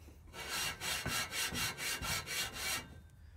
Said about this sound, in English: when you're lapping the valves you're lapping a steel valve into a steel valve seat here you're lapping into the alloy head itself